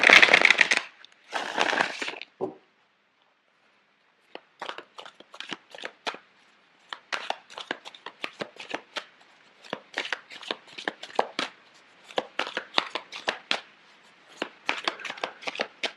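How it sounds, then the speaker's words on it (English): Tarot cards being shuffled by hand, a quick ruffle at the start followed by a long run of crisp, rapid riffles and soft card slaps in irregular bursts, close and fairly quiet with no talking. "I'm going to shuffle the cards out for you."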